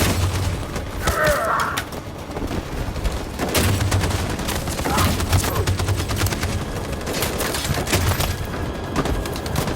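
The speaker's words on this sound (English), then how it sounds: "That machine gun is taking down everything that moves!" Heavy machine gun fire rattles through a chaotic battle in Detroit: Become Human, continuous dense rapid shots mixed with booming impacts and thuds, with shouting voices briefly heard amid the fighting.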